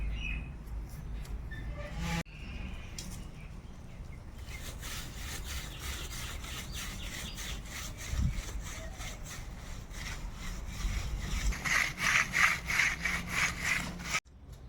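Wild forest mushrooms are rubbed with sand to scrub off soil, giving continuous gritty scraping strokes that grow into a quick rhythmic rasp toward the end, close by with a couple of sharp knocks.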